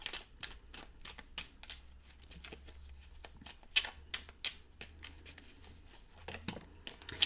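Tarot cards snapped and laid out one after another from a deck, a quick run of crisp, close card flicks and slaps with short pauses between them.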